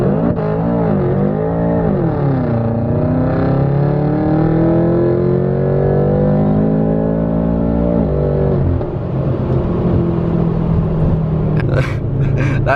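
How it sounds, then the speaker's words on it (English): A BMW F10 M5 launches hard from launch control, its engine held near 3000 rpm before a loud rising roar through first gear, then a shift and continued strong acceleration with a deep rumble and faint wheelspin, close and constant. "Now to actually launch it, I just have to let go of the shifter."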